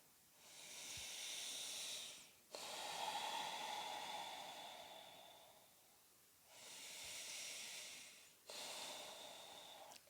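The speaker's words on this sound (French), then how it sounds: "Des respirations longues et profondes." Long, slow, deep breaths during a beginner prenatal yoga session in the second trimester: two airy inhale-exhale cycles, close and soft, with no talking.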